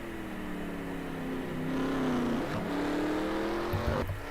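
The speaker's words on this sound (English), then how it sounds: "I heard that shift." A race car in a racing video game drones at steady engine pitch, rising slightly then dropping with a quick gear shift near the middle and another near the end, at moderate loudness with no talk.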